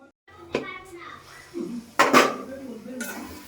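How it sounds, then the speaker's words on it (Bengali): Metal clinks and clatters as a lid is put onto a cooking pot while making a mashed taro-leaf dish, a few sharp knocks over about three seconds, with a voice and other speech in the background. "এবার আটু ঢেকে দেই, পরে আবার লাড়া দিতে হইব।"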